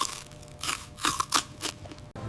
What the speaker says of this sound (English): I eat an apple.